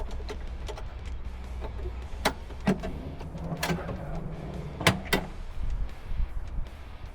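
A metal equipment drawer on a fire engine pumper rolls out with a low rumbling slide, broken by several sharp clicks and clunks, close by with no talking.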